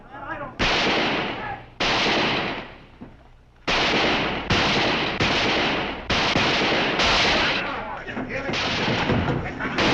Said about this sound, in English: Too late now. Shooting's commenced.